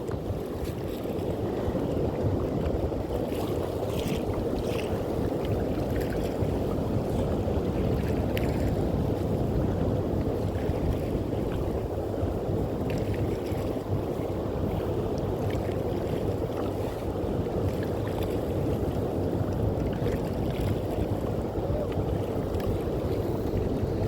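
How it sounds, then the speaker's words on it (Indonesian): A rented boat ride on the sea at Pandawa Beach, Bali, with a steady engine drone, wind buffeting the microphone and water washing against the hull, continuous and loud throughout. "Ternyata naik perahu capek juga ya Pak kaki."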